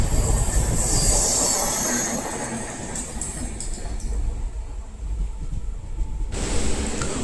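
Train pulling into Mulankunnathukavu station in Kerala and coming to a stop, loud rolling rumble with high squealing brakes that fade as it slows, then a sudden hiss near the end.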